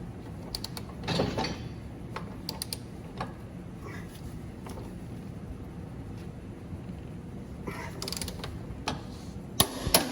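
A ratchet wrench tightens the Allen socket bolts holding down the cap on a Vermeer TM700 by hand, giving faint, scattered mechanical clicks and creaks in a quiet space.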